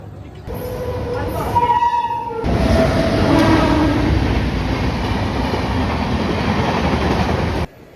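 A weekly express train running from Visakhapatnam to Kollam, heard from inside the carriage: a loud, steady rumble with a tonal whine and a horn-like sound early on, continuous until it cuts off near the end.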